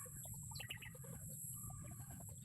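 Birds chirp and cluck in short scattered calls, with a low steady hum running underneath throughout.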